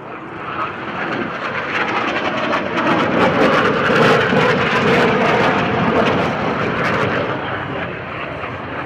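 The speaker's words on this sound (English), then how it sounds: "Two MiG-29s then set up fighter cover overhead, while four Oraos performed an airfield attack demonstration" Military jets, including a pair of MiG-29s flying fighter cover and four Orao attack aircraft, roar continuously overhead at an airfield air show, a loud sustained engine rumble swelling toward the middle and easing off at the end.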